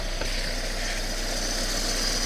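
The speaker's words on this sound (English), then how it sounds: "Squeak squeak from under the bonnet." A Toyota Yaris engine idles steadily under the bonnet with a constant low hum, while a loose or worn pulley bearing adds a faint high squeal running through the whole stretch.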